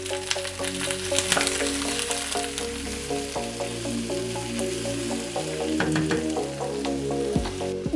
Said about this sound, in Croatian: sada ću dodati luk. I to ću također da pržim, da luk također poprimi malo boje.